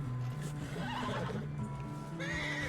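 A horse in the Red Dead Redemption 2 video game neighs loudly and long, with a shrill whinny rising near the end and faint hoof clops beneath.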